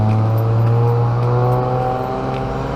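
A hoon's car revs hard and sweeps past at close range, its engine drone loud and steady throughout before easing slightly as it moves away, on a quiet beachside esplanade at Trinity Beach, Cairns.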